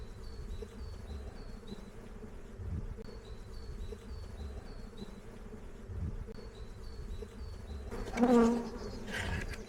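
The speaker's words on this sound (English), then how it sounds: "When you're working with thousands of bees" Honeybees from a colony being moved into a new hive drone in a steady, close swarm buzz, with a few individual bees whining past and a louder buzz swelling up near the end.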